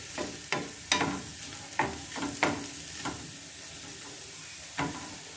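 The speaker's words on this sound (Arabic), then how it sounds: "صافي غنخليو هاد البصله ديالنا تشحر لنا واحد شويه وتنزل" Onion and garlic frying in a pan, a steady soft sizzle with a series of sharp scraping stirs, close and fairly quiet.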